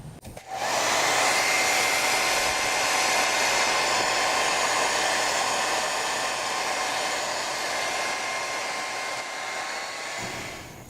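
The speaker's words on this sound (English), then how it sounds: "I'm going to get my hair dryer out and dry this a little bit" A hair dryer blows steadily and loudly after a brief start, a constant whooshing hum with a faint whine, running alone until it cuts off near the end.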